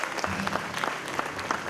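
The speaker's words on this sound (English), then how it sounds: "A huge round of applause for them." An audience at a children's school annual day celebration applauds steadily as a guest couple is called to the stage: dense, continuous clapping from many hands, fairly loud and close, with faint voices mixed in.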